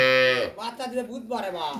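A crossbred dairy cow on a dairy farm lets out a long, loud, close moo that rises and then trails off. A second, shorter lowing call follows soon after.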